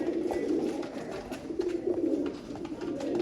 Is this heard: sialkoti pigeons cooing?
yes